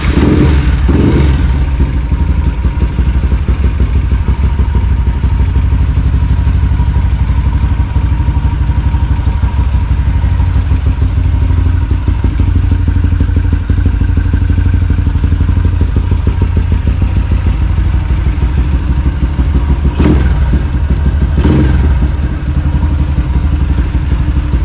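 A Yamaha LC motorcycle with a 255cc engine starts on the electric starter, then idles with a loud, steady, close-up mechanical throb and clatter that runs throughout, with a couple of brief blips.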